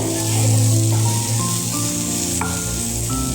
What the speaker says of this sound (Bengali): এই সর্ষে ফোড়ন দিয়ে ভাজছি